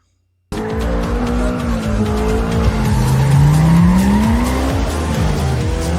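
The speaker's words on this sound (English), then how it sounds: "a sports car drifting around a wet corner in slow motion" A sports car drifts around a wet corner in slow motion, its engine roaring steadily with a rising pitch while the tires squeal and skid continuously, loud and close throughout.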